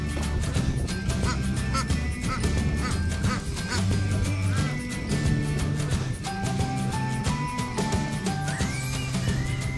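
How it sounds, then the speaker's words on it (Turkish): A mixed farmyard flock of ducks and turkeys, with ducks quacking continuously and overlapping in a busy, dense chorus that stays loud and steady throughout. "meşhur hindi ve ördekleri mixlediğimiz aile"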